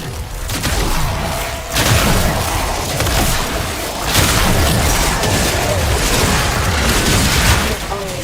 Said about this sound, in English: You mean the constant explosions aren't a bit of a clue?